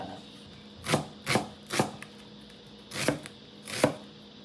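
A knife chops tuna and tomato for kinilaw on a cutting board, five distinct close thuds spaced unevenly with quiet gaps between them.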